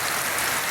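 Steady rain falls outdoors at night, a dense continuous hiss of drops on surfaces, close and even throughout with no other sounds.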